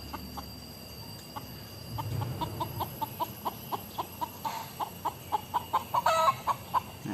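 A mixed-breed chicken with an injured leg clucks in a steady series of short, evenly spaced calls, fairly close, over soft outdoor background noise.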